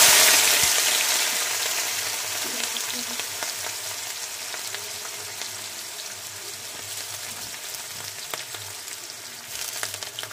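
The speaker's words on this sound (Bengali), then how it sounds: "পেঁয়াজগুলো তেলের মধ্যে ছেড়ে নেব।" Chopped onions dropped into hot oil in a wok sizzle loudly and steadily, the bright frying hiss strongest at the start and easing slightly as it continues, with occasional spatters and stirring clinks.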